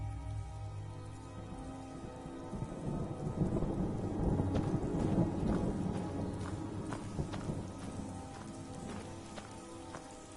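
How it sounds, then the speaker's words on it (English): Rain and rolling thunder in Skyrim: a steady rain patter with low rumbling thunder swelling in the middle, and occasional drips and soft footstep-like taps, heard faintly throughout. "we can hear the rain dripping in"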